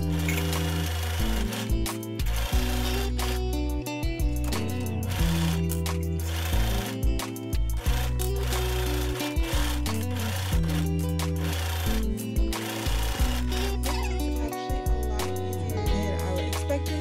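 A sewing machine hems a mini skirt with a dense rapid stitching rattle that runs in long bursts, briefly pausing and restarting several times, close and loud throughout.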